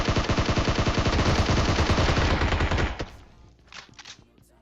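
Rapid automatic gunfire in PUBG Mobile rattles loudly and steadily for about three seconds, then cuts off, leaving a few fainter distant shots and scattered clatter.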